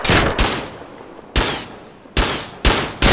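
Gunfire in the survival game Rust: six sharp, loud shots spaced irregularly over about three seconds, each a hard broadband crack with a short decaying tail, heard close with no talking.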